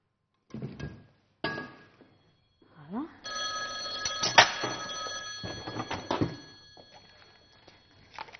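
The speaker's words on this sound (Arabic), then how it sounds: "يلا نستقبلوا اتصال نادية" An incoming call rings in on a cooking TV show's studio telephone line, with bursts of electronic ringing and clinking studio sounds mixed with voices talking around it.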